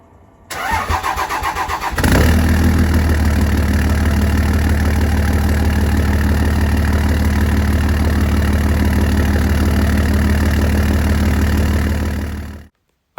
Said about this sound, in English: We'll give you a little cold start on the big turbo Cummins and go from there.